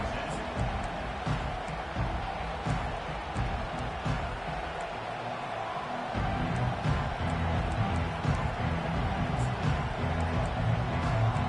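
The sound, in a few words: football stadium crowd noise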